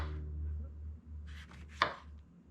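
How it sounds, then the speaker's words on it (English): A Misen kitchen knife cuts through a lemon on a board: a short scrape, then one crisp, close chop, with no talking. "Let's try to cut a lemon."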